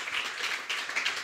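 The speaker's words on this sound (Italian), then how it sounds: "un applauso facciamoglielo" Audience applause at a live fusion music event, a short, steady patter of many hands clapping at moderate volume, with no talking.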